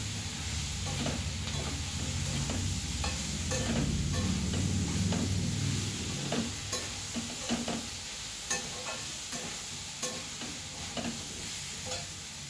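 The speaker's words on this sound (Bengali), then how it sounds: "দিয়ে সব সবজির সঙ্গে খুব ভালো করে আমি কষিয়ে দেবো।" Spices and vegetables sizzle in a pan for a paneer vegetable dish, with a steady frying hiss and repeated scraping stirs, and no talking over it.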